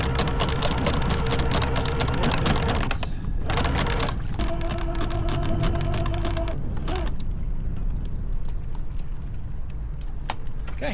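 An anchor windlass on a sailboat at anchor in Portugal hauls in chain with loud rattling, clanking metallic mechanical noise, stopping and starting in bursts before fading to a quieter rumble with a few sharp clinks.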